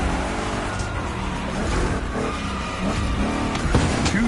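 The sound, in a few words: Chevrolet big-block race car engines in the video game The Crew 2 Motorfest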